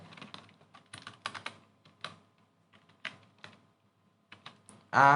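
Computer keyboard typing while writing HTML code, irregular bursts of clicky keystrokes close up with short pauses between them, ending in a louder brief noise.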